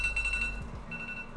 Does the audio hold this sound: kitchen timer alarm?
yes